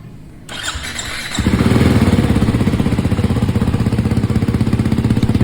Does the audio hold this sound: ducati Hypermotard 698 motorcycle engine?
yes